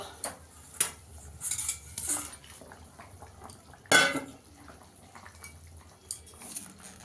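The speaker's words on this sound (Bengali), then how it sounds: "এবার মাছগুলোকে দিয়ে দেবো" Pieces of bata fish go into a pot of simmering curry for a jhol, with scattered metal utensil clinks and one louder wet, splashy burst midway. Nobody speaks.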